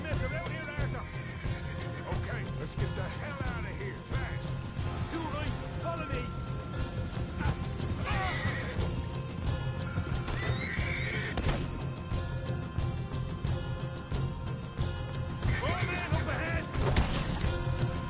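Horses in the video game Red Dead Redemption 2 whinny repeatedly over steady clip-clop of hooves, with voices talking over the busy mix throughout.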